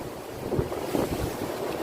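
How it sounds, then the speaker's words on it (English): Wind gusts against the microphone, a low blustery rumble with a couple of stronger buffets over a short stretch. "it's a bit too windy at the moment"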